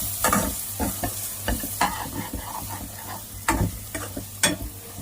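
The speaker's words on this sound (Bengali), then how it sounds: "এবার এটাকে ভালো করে কষে নিয়ে এতে একটু ভাজা ভাজা হলে আমি আলুটাকে ছেড়ে দেবো" Kabuli chickpea curry being sautéed with spices in a pan, loud close stirring with rhythmic spatula scrapes and knocks over a constant frying sizzle, without any talking.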